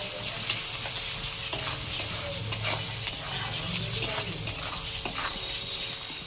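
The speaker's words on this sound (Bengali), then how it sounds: "পেঁয়াজগুলো একটু লাল লাল করে ভেজে নেব" Onions frying in a pan for a mutton curry, a loud continuous sizzle close up with irregular stirring clicks and scrapes throughout, no talking.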